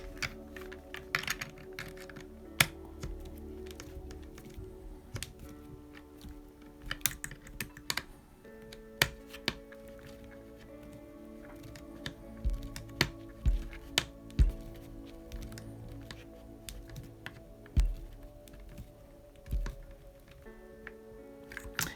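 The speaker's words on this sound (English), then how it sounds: "now I'm going to tighten all of these screws up" Screws are tightened into the hard plastic of a Tamiya BIGWIG gearbox with a small screwdriver, producing quiet scattered clicks and sharp ticks over a low hum, close and intermittent.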